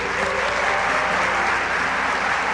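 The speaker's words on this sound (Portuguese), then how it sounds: "Vamos dar uma salva de palmas a Deus de novo" A church congregation applauds God at a Portuguese-language worship service, the clapping dense, loud and steady throughout with no pauses, a continuous wash of many hands close by.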